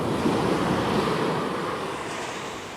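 Ocean waves wash up a rocky beach on the coast, with foamy water dragging back down the sand; a steady, loud, broadband surf roar, fairly continuous and close, with a little wind noise.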